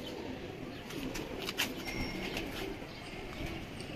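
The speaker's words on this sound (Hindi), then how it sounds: "माशाल्लाह पूरा कबूतर दिखाएं।" Pigeons of a Miyan Nazir bloodline coo softly in a breeder's loft setup, faint low murmuring calls with a few brief chirps over quiet background noise.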